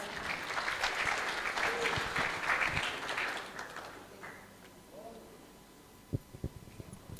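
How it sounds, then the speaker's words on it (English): A temple audience at a Sunday love feast applauds, a dense burst of clapping for several seconds that fades out, followed by a few scattered individual claps. "Let's give her a round of applause."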